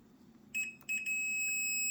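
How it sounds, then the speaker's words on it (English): Multimeter continuity beep: a brief chirp, then a steady high-pitched tone that holds clearly and alone over a faint background hum. "I'll put my meter on beep, or if I have a short, it beeps."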